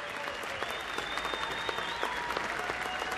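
A large crowd at Yankee Stadium claps in sustained distant applause, a dense even patter of hands with a faint whistle and a voice on the public address underneath.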